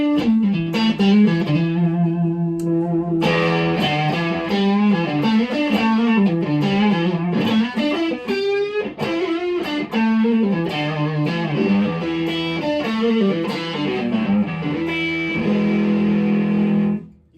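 Electric guitar through the tube screamer circuit of an Ibanez TSA15H tube amp, a loud, continuous overdriven passage of strummed chords and riffs with thick distortion, ending abruptly, with no talking.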